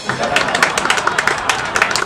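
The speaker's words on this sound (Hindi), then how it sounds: "अरे तालियां बजाओ भाई, भाई बजाओ बजाओ बजाओ।" An audience claps for an award at a village comedy show, with quick scattered handclaps and a little crowd murmur over about two seconds.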